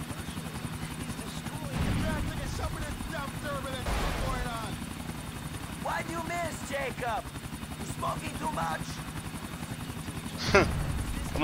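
Helicopter from the video game GTA 4, its steady rotor drone running through the whole passage with a loud swell near the end, while several voices talk over it.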